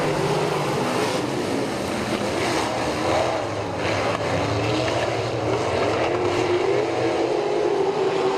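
Dirt track race cars roar away at the start of a heat race at Southern Raceway during the Gator Dirt Nationals, a loud, sustained blend of engines filling the air with slight swells.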